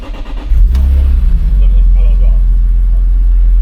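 A BMW Z4 M Coupe engine cranks and catches, then settles into a loud, rumbling idle close by, with a voice briefly heard over it.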